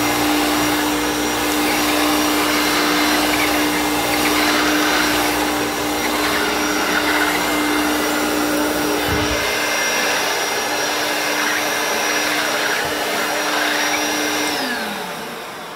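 A vintage Hoover Turbopower Freedom U2662 upright vacuum cleaner runs loud and close with a steady motor whine and airflow roar, a brief thump partway through, then winds down as it switches off.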